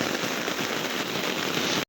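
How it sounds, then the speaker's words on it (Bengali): Heavy rain pouring down at Tarakeswar temple, a dense, steady hiss of downpour, loud and close, ending abruptly, with no talking. "দেখছো কি বৃষ্টি হচ্ছে ঝমঝম করে বৃষ্টি পড়ছে"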